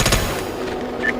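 Gunfire from the video game SOCOM: U.S. Navy SEALs Fireteam Bravo 3, a short burst of rapid automatic shots up front, then quieter scattered firing fading out.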